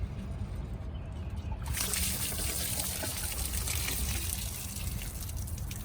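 Water is dumped out of a machine's loosened water filter housing, pouring and splashing steadily with a sudden surge after a quiet trickle at the start, continuing as a dense, close splatter.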